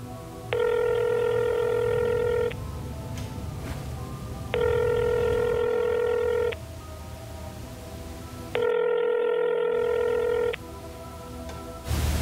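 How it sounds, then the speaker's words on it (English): A telephone rings in three long electronic bursts, each about two seconds with pauses between, loud and close over a low background hum. "Your phone is ringing."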